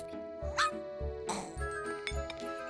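A dog barks repeatedly in short, fairly close bursts with a whimpering yelp mixed in, over a faint musical background.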